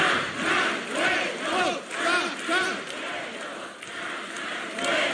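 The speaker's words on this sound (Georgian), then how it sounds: "შეძახილით ჩვენი ქვეყნის სახელი" A big crowd of Georgian fans chants their country's name in unison at a team welcome event, rhythmic repeated shouts roughly every half second, loud and massed.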